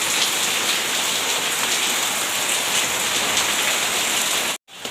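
Heavy rain pours steadily on a house in a dense, unbroken roar, loud and close throughout, cutting off abruptly near the end with no voices.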